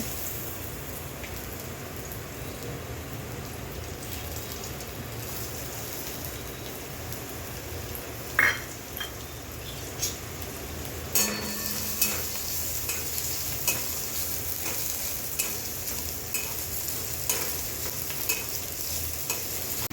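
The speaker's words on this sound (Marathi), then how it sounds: "थोडे गरम झाल्यानंतर त्याच्यामध्ये कांदा भाजायला टाकूया।" Steady crackling sizzle of onion frying in hot oil in a wok, with occasional clinks and scraping stirs; no talking.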